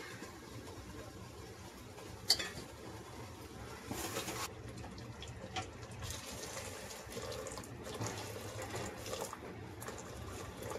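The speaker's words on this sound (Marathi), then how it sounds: "1 तांब्या पाणी ओतले मी" Water pours faintly and steadily into a metal pressure cooker, quiet and close, with a single sharp knock early on.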